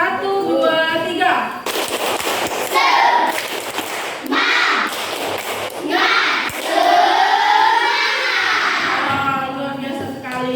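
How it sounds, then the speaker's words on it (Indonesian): Schoolchildren in a combined grade 4 and 5 classroom do a rhythmic spirit clap, with bursts of sharp patterned clapping mixed with loud chanting voices and a teacher speaking between rounds. "Kita tepuk semangat dulu yuk."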